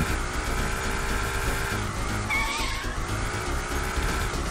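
Car tires skid and screech over a loud, steady engine roar while driving in a horror game about delivering pizza in hell, one continuous sound with no speech.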